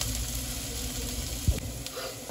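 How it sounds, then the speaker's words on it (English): Crab frying in a pan, Trinidadian style, a faint, steady sizzling hiss with one brief low knock partway through. "I'll let it fry up properly."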